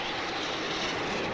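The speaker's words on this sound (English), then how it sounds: "That's the roar of the Rafale, dear listeners." Rafale fighter jets roar overhead during a Republic Day fly-past along Rajpath, a loud, dense, continuous rushing thunder that fills the whole moment without letup.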